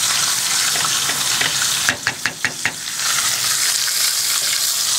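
Food frying in a pan on a home stove alongside a steak dinner being cooked, giving a steady close hiss of sizzling with a short run of soft clicks and stirring knocks midway.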